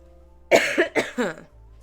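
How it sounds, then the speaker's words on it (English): A person suffering from a bad, lingering cough coughs three or four times in quick succession, close and fairly loud, with no talking. "I've had this awful cough"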